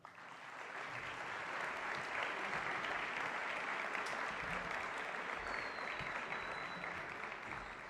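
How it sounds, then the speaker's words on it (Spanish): An audience at an Argentine economics congress applauds to welcome a speaker, a steady dense wash of clapping from a large crowd that swells quickly and holds evenly to the end. "Lo recibimos con un fuerte aplauso."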